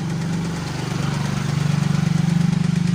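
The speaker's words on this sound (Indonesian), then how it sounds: "motor drain pumpnya yang rusak" The faulty drain pump motor of an LG top-loading washing machine hums in a low, steady tone that builds into a rapid, pulsing rattle-like throb, close and fairly loud, with no voices.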